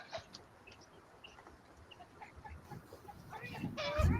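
Chickens cluck and squawk in scattered calls, growing louder and busier toward the end, against a quiet outdoor background.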